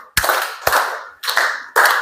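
A classroom group claps in unison: four sharp, loud claps spaced roughly half a second apart, each with a short ringing tail, with no talking in between.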